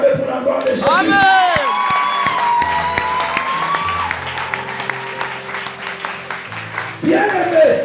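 A church congregation at a French-speaking evangelistic service cheers and applauds loudly, with whoops and shouts rising over sustained clapping while a preacher's voice carries through.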